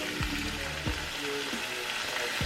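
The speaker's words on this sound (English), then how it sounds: "tagine with the lamb and I'm just browning it now, even though it's only lunchtime, with some garlic, some tomato paste, olive oil, onion" Lamb browns in olive oil with garlic, onion and tomato paste for a tagine, giving a steady close-up sizzle broken by a few soft stirring knocks, with no speech.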